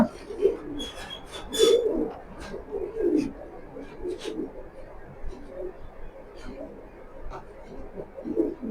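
Large racing pigeons, black racers and light-coloured birds, cooing in repeated soft low bursts close by, with intermittent chirps and a bit of background chatter mixed in.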